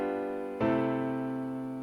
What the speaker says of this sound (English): That's a deceptive cadence.